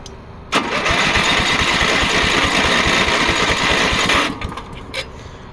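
A Toro Big Red rototiller engine cranks without starting, a loud rapid chugging turnover of steady beats lasting about three and a half seconds, then stopping, followed by a couple of faint clicks.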